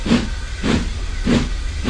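Steam hisses in loud, rhythmic bursts from a steam locomotive, roughly three surges in under two seconds, under a steady low rumble.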